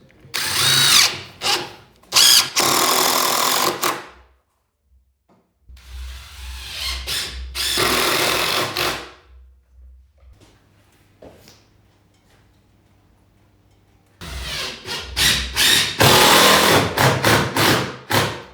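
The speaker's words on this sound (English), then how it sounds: "here is a good place to add some screws" A power drill drives screws into a plywood shipping crate in loud whirring bursts of a second or two each, separated by quiet pauses and a low motor hum, with no talk.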